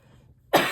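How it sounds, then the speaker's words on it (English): After a near-silent moment, one sudden harsh cough bursts out close to the listener. "I still have a bit of a cough,"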